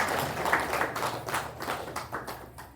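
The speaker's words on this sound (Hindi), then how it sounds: "इसलिए उनके लिए ताली बजाओ।" Audience clapping at a spiritual talk in Mahagama, Jharkhand, a loose patter of hand claps that swells and fades over a few seconds, fairly faint and distant.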